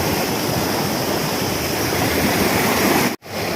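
Lake Mist Waterfall roars as a steady, loud, broadband rush of falling water, close by and unbroken, with a brief dropout just before the end and no voices.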